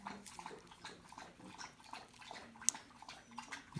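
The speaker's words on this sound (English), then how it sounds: "My dog's drinking water over there" A dog lapping water from a bowl in a garage, a quiet rhythmic series of wet laps repeating steadily, faint and somewhat distant.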